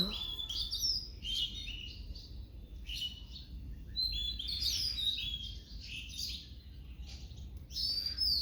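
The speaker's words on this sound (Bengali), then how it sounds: "দেখো কত সুন্দর সকালবেলার পাখি ডাকা।" Several birds call on a misty winter morning in recurring bursts of high, thin chirps and tweets, moderately distant, with quiet pauses between phrases over a soft low background hum.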